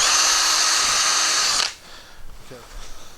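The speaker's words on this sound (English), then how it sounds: "So now I'm just going to use 8 by 3/4 Robertson wood screws here, and screw that right into this." A power drill whines loudly and steadily for about a second and a half as it drives a number 8 by 3/4 inch Robertson wood screw into a pegboard tool shelf, then stops abruptly, followed by quiet handling noises.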